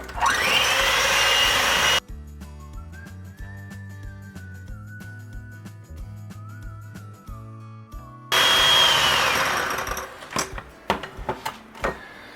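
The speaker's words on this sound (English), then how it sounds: "Now all we're going to do is mix these on high for about 5 minutes." Three eggs are whipped with an electric mixer on high speed, a loud whirring drone that stops after two seconds; an interval of unrelated music follows, then the mixer returns loud and steady before tapering into clanks and knocks.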